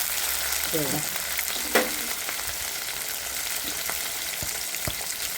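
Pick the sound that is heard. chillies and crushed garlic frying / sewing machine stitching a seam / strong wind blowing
chillies and crushed garlic frying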